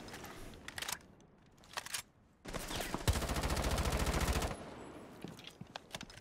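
Gunfire in Rainbow Six Siege, with scattered single shots and short bursts, then a loud sustained automatic burst of rapid fire lasting around two seconds, followed by more sporadic shots.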